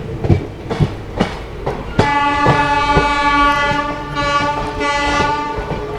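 The Vishwamanava Express on its Hubli to Bengaluru run clatters in sharp rhythmic wheel knocks, then a loud, sustained horn blares close by and holds for several seconds over the rolling train noise.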